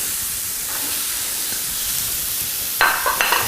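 Leeks and parsnips sauté in a hot pan with a steady, close hiss and sizzle, broken near the end by a few scraping stirs.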